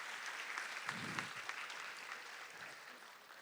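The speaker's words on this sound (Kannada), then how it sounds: "ಅವ್ರಿಗೊಂದು ಚಪ್ಪಾಳೆ ಬರಲಿ ಫಸ್ಟ್." An audience at an annual day celebration gives a round of applause, a faint, continuous patter of clapping heard from a distance and easing off toward the end.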